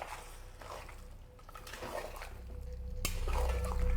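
A spoon stirring beaten sour yogurt into mutton cooking in a pot, with wet scraping and clinks against the metal over a steady background hiss that grows louder toward the end.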